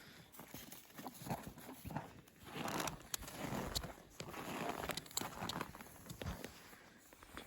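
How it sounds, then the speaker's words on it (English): A horse moves around a snowy farm paddock in freezing winter weather, its hooves clip-clopping close by in an uneven walking rhythm over steady outdoor background noise. "This guy here, that's Kodiak. That's McKinley's horse."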